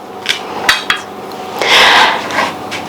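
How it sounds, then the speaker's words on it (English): A knife cutting the core out of an apple, heard close and fairly loud as several scraping and clicking strokes followed by a longer rasping cut. "I'm going to take the core out by cutting it with a knife"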